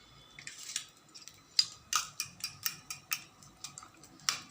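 A fork beats eggs with ground pepper, asafoetida and onion in a bowl for a green-pea omelette, producing a run of quick, faint, rhythmic clicking taps.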